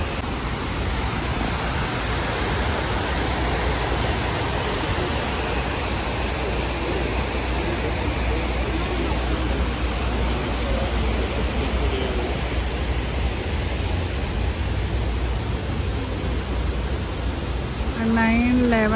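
The 9/11 Memorial waterfall pools in New York roar as a dense, steady rush of falling water, loud and continuous throughout, with faint voices of visitors mixed in.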